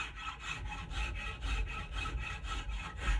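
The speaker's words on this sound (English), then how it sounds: "go back to your shear form and bring it along straight like this" A Stanley Surform rasp is pushed along a yellow birch handle in quick, even strokes, giving a close, rhythmic scraping and rasping with no pauses in the cutting.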